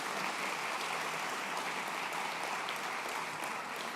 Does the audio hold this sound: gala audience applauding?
yes